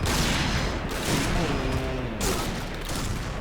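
Rapid bursts of gunfire from the online shooter game Point Blank, continuous and dense throughout with a voice talking over them.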